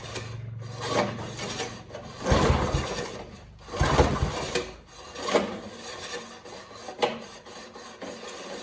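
A rear tine tiller with low compression has its starter cord pulled several times: a series of rasping, whirring pulls with a brief mechanical rattle, and no engine catching.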